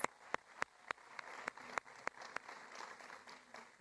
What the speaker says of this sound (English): Come on, give him the round of applause.